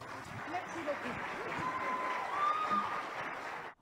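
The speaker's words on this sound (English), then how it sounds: "A round of applause," Congress audience applauding, a moderate wash of clapping mixed with crowd murmur and voices, swelling slightly before cutting off abruptly.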